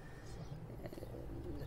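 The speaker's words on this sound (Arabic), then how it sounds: "طيور، هذا سوق الطيور" Pigeons coo at a bird market in the livestock city of Buraydah, soft repeated coos mixed into a dense, busy background of crowd noise, with faint voices.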